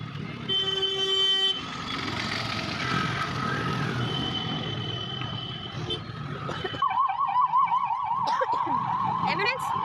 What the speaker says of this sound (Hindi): एम्बुलेंस, एम्बुलेंस कहाँ जा रही है?